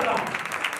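A short burst of dense audience applause, many hands clapping together in a steady wash that fills a hall at a sermon or church gathering.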